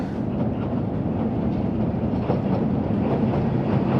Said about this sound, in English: We've got to wave to the train.